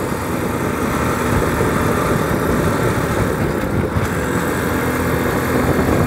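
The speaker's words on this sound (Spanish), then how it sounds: "Tenerle confianza en la curva a mi moto" Motorcycle engine running steadily while riding a curvy road between Nayarit and Jalisco, a continuous loud drone blended with heavy wind rush across the whole stretch, no voices.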